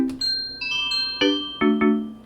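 Minecraft note blocks tuned for the first measure of a song play a short plucked melody, a handful of bright bell-like notes in quick rhythm, clear and close with nothing else around.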